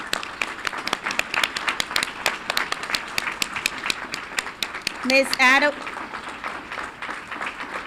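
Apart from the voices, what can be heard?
school board meeting audience applause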